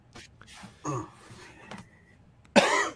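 A single sharp cough bursts out near the end, loud and close, after some quieter shuffling and faint voice sounds.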